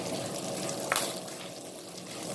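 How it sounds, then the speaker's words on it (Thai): Red curry paste is stir-fried in oil in a pan for dry red snapper chu chee, giving a steady, moderate sizzle with a single brief scrape of the spatula. "ค่อยๆผัดนะคะ ผัดให้แตกมันนะคะ"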